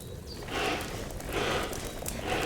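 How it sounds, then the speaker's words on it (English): Cauldron of sage and wormwood boiling over a fire in Kingdom Come: Deliverance II, a close, steady bubbling and gurgling that swells in soft waves, heard alone. "This sounds more like boiling."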